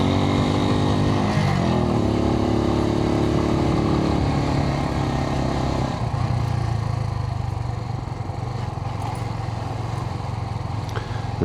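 A Suzuki TU250X motorcycle is ridden on the road, its engine droning loudly and steadily, with a pitch shift partway through as the bike changes speed.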